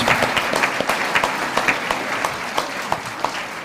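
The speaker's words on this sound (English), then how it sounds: "Let's give her a big round of applause." An audience at a live entrepreneur showcase event applauds after a presenter, with steady clapping and sharp individual claps standing out throughout, fairly loud and sustained with no talking.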